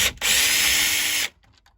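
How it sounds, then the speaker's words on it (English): Power screwdriver backing a Torx screw out of a Mercedes Sprinter van dashboard: one sustained loud whirring burst of about a second, cutting off sharply into quiet. "I'm just going to go around now and remove all of the Torx bits."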